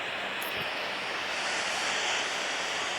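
Airbus A321 on final approach in a flight simulator game, a steady broadband jet engine and airflow roar holding at an even level throughout with no talk.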